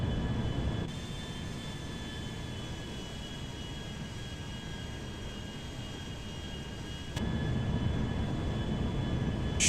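A Boeing 787 airliner on final approach toward the eastern runway at Zancudo in GTA 5, a steady broad engine roar with faint whining tones, holding constant before growing slightly louder near the end.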